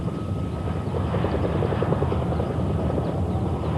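A Mil Mi-12 twin-rotor giant helicopter in test flight gives a steady, loud, rumbling rotor drone with a rapid thudding beat that holds evenly throughout.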